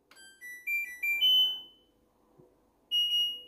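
A washing machine gives a series of electronic beeps: several short tones, then a longer one, a pause, and another sustained beep. They are clear and close, with no talking.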